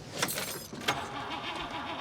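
A car engine cranks and struggles to start in a TV drama, a repeated rhythmic churning under a clicking jangle and a couple of sharp knocks, steady and moderately loud with no voices.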